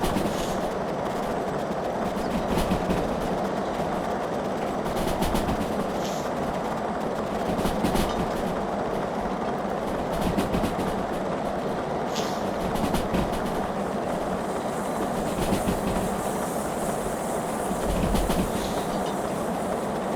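A locomotive at full throttle in the Derail Valley game rumbles loud and continuous, with rhythmic clickety-clack of wheels over rail joints and a steady roar, and no voices.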